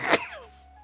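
One sharp, loud sneeze up close, trailing off into a faint tonal hum.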